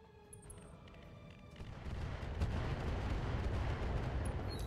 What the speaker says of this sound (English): So that is a lot of missiles that do a lot of damage